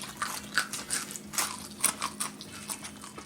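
Bites into the crunchy crust of a sourdough pizza baked in a cast iron pan, a rapid run of close, loud crunches and chewing, with no talk.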